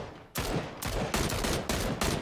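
Gunfire in PUBG: Battlegrounds, a rapid run of five or six loud, close shots in an uneven rhythm, each cracking sharply and ringing briefly before the next.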